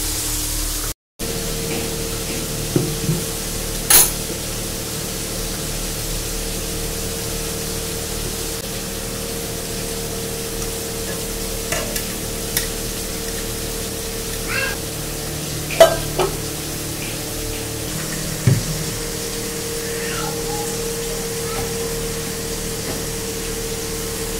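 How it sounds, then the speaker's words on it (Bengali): Fish frying in a home kitchen pan gives a steady, even sizzle throughout, broken by a few brief clinks and knocks of utensils, with no voices present. "মাছগুলো ভাজা হোক"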